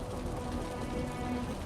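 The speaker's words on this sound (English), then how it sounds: "The rain's getting heavier." Heavy rain pours steadily in the video game Wuthering Waves, a dense, even hiss with no breaks throughout, fairly loud and close.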